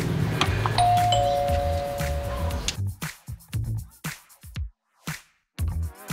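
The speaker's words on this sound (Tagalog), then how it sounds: "May doorbell pala dito." A doorbell at the house of a relative in the Philippines rings with a tonal chime during the first half, followed by speech and scattered knocking-like bursts with brief pauses between them.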